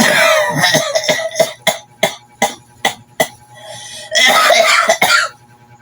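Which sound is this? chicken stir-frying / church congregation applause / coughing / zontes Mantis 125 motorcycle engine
coughing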